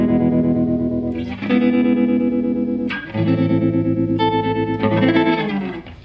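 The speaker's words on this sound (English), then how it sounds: "I just want to give you an example with this opto reverb of what a lot of rate and a lot of depth are going to sound like." Electric guitar chords played through a Fender Tre-Verb pedal set to deep, fast tremolo with opto reverb, loud and pulsing rapidly, with a few sustained strums ringing out alone.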